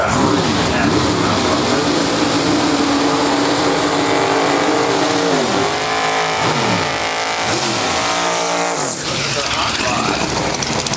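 Drag racing cars in the 10.5-inch tire class at Grand Bend Motorplex, engines roaring loudly with several sharp rising and falling revs, under a commentator's voice.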